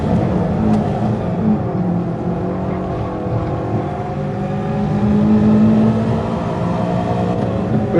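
A Toyota 86 in the racing video game Gran Turismo Sport, played on a PS5, as its engine revs hard under sustained throttle, a loud, continuous buzzing drone that rises and falls with the gears.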